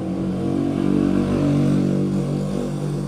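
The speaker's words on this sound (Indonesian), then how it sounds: "berisik belakang ya banyak motor" Many motorcycles pass along a busy road, their engines blending into a continuous low rumble that swells and fades slightly, moderately loud and sounding from behind the listener.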